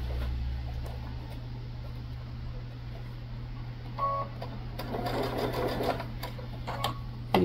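A sewing machine top-stitches a fabric bag, running with a steady low motor hum and fast needle whir, with a few brief clicks and bursts near the end.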